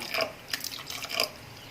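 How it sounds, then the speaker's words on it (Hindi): Hot water is poured into a pot of thick dal makhani during cooking: soft liquid splashing and trickling in a few short bursts, close and fairly quiet, with no talking. "इसमें अब गर्म पानी थोड़ा डालेंगे"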